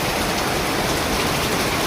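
Heavy rain falling hard and steadily, a dense, close, unbroken roar of drops with no voices.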